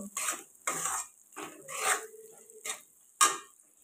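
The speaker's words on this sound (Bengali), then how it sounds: "আলুটা দিয়ে ভালো করে নাড়াচাড়া করে নেব।" Fried potato being stirred in a cooking pan, heard as about six separate close scraping and clanking strokes of a utensil against the pan with quiet pauses between them, no talking.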